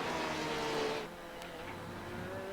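A McLaren race car in a sim racing game at Laguna Seca sounds as a steady, loud engine drone that eases off after about a second, with higher whine tones shifting as it runs on alone.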